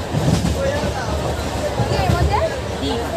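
Inside a moving passenger train heading into Howrah station, a steady low rumble and rattle of the carriage fills the space while people talk nearby.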